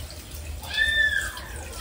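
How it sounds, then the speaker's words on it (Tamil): Water is poured into a cooking pot during home cooking, a brief soft splash of liquid lasting about half a second over quiet kitchen background. "தண்ணி ஊற்றிக்கிறேன் நான்."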